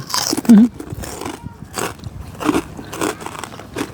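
Crunchy bites and chewing on a spicy pounded giant octopus dish, close to the mic, with sharp crackling bites between pauses and some voices in the background.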